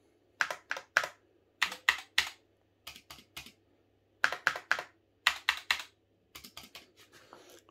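Enter key on a Razer Huntsman keyboard pressed repeatedly, a series of sharp close clacks in quick clusters of two to four strokes with short pauses, loud and alone.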